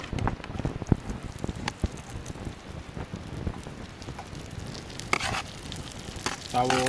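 Chopped onion sizzles and crackles in hot melted butter in a pan, a soft, steady frying hiss with scattered pops and a brief clink of utensils near the end.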